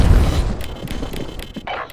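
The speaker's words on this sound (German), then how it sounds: "Granate geworfen." A grenade explodes in the video game Black Ops Cold War: one deep, heavy boom at the start that rumbles and decays into faint scattered clatter.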